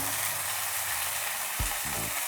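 A bright, constant sizzle of tomato puree in a hot pan for egg gravy, with a low thud of the pan or a spoon briefly stirring partway through.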